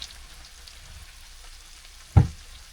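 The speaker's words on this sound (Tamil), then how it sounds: "தக்காளி சேர்த்து விட்டு இது நல்லா வதங்க வரைக்கும் கிண்டிகிட்டே கொஞ்சம்." Tomatoes with salt sautéing in a pan for egg masala give a faint, even sizzle, broken once by a single dull knock of the stirring spoon against the pan near the end.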